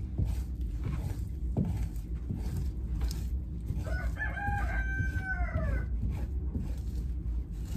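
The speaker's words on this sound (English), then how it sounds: "Rooster right outside the door." A rooster crows once, clear and moderately close, just outside a door, over a low rumbling background with scattered soft knocks as a raccoon hide is fleshed.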